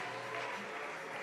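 Large crowd at a Major League Pickleball event in Melbourne, Australia, cheering and clapping on the showcourt, a faint, distant, continuous roar of applause with no speech over it.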